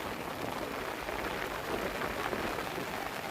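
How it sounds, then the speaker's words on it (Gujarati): Monsoon rain falls steadily in windy weather, a soft even hiss that stays faint and constant throughout, with no voices. "આ સાઈડથી વરસાદ ચાલુ છે"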